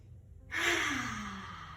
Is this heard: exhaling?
yes